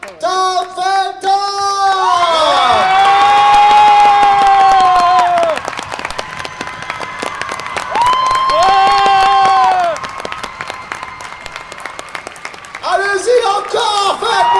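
Large convention crowd at the Toulouse Game Show greeting Tom Felton with loud applause, cheering and sustained high-pitched screams and whoops that rise and fall in swells, clapping steady underneath.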